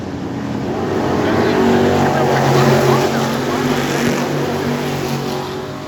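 Stock cars racing around a track in a fireball feature event, their engines a loud, continuous, blended roar that swells and holds steady throughout.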